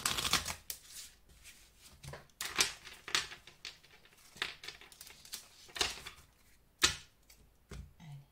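Oracle cards are handled and shuffled close up in a steady run of crisp riffles and slaps, with short bursts of card noise repeating throughout and no voice over them.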